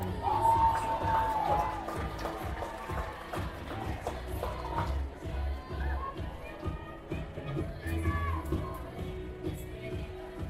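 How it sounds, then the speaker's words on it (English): A senior-night crowd cheering at a high school softball game, a broad, moderately loud roar with scattered shouts and whoops, while voices talk over it nearby. "You hear some cheers a little louder today, just on senior night, which is awesome."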